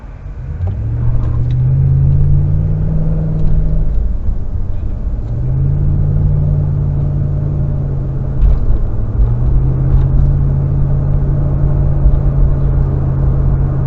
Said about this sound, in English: This is a busy road.